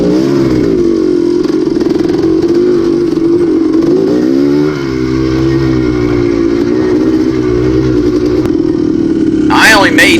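A motorcycle engine runs at a race on an off-camber wooded track after being kick-started with the throttle held open, a loud, steady, buzzing drone that rises and falls as it revs, with a voice talking over it.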